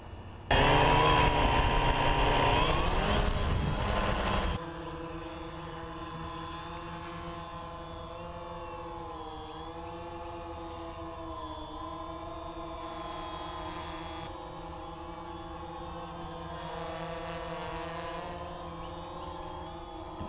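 A DJI Phantom quadcopter's motors whine up sharply, then settle into a steady high-pitched electric hum with shifting tones, close and loud, with no one speaking.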